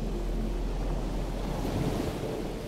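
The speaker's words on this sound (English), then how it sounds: "A beautiful looking wave." Ocean waves break and rush continuously at a Hawaii surf break, a broad steady wash of surf with some wind noise, no voices.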